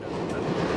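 A train runs on the railway line between Serbia and Bosnia, giving a loud, close, continuous rumble with no clear breaks.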